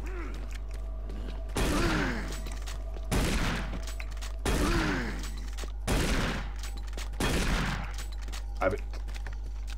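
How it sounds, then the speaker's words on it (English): Shotgun blasts in a Doom 3 mod, five loud booming shots spaced about every second and a half with reload clicks between, heard over a steady low game hum. "Alright, shotgun."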